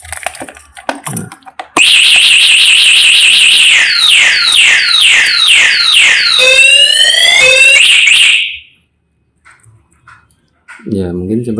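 Locked electric scooter's anti-theft alarm, a subsidised Green Tech Scood 1500-watt lithium model, blaring loud sweeping and warbling siren tones for several seconds after a vibration, with brief talk before and after.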